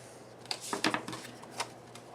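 Scissors snip through a paper butterfly design for a papercraft project: a few short, dry cuts in an uneven cluster, close and fairly quiet, with no talking.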